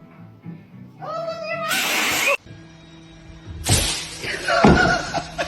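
A kitten meows several times in a close, high, drawn-out series, with a sharp hiss-like burst between calls.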